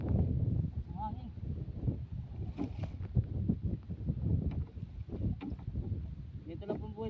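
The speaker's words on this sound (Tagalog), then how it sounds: "Hangin." Wind gusts buffet the microphone at sea on a small boat, a rumbling low roar that runs throughout beneath talk and boat noise.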